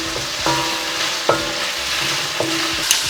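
Ginger, chillies and onion frying in a pan, a steady sizzle broken by several sharp spatula scrapes and knocks as the mix is stirred; no one speaks.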